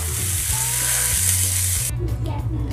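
Chholia paneer gravy, tossed with red chilli and masala, simmers in a pan with a steady close sizzle and frying hiss that thins out near the end, while a low hum runs underneath.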